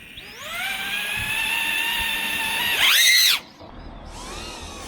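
An AstroRC AirTank25 5-inch 4S FPV drone flies by, its motors whining loudly with rising pitch, sweeping in a sharp close pass that dips and swells before dropping away, then spooling up again briefly.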